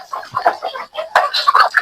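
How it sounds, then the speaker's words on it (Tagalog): Chickens cluck close by in quick, chattering bursts, several birds overlapping with a brief pause midway before the clucking picks up again. "Mga inahin. Ating tandang."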